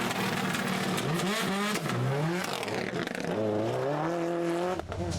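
A Subaru Impreza rally car on a tarmac rally stage in Ulster, its engine loud and close, revving and climbing through the gears in steady surges with no voices.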